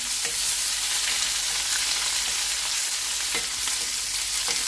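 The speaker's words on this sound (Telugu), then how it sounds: "ఉల్లిపాయ బాగా వేగాల్సిన అవసరం లేదండి. కొద్దిగా కలర్ చేంజ్ అయితే సరిపోద్ది." Chopped onion pieces sizzle steadily in a hot pan while tomato pappu is being cooked, giving a continuous close crackle with soft stirring scrapes, and no talking over it.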